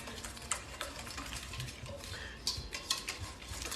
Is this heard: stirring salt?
yes